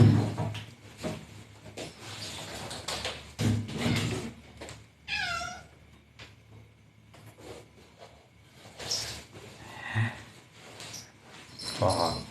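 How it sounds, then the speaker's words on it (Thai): A black cat meows several times at close range, with drawn-out, wavering cries breaking through background rustling and a voice speaking in between. "มันเริ่มบ้าแล้วแมวมันเริ่มเมามัน"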